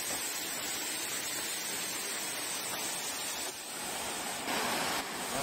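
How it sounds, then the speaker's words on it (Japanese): A waterfall on the Mount Rokko hiking trail near Kobe gives a steady, dense rush of falling water, constant and fairly close with no voices over it. "滝までやってきました。"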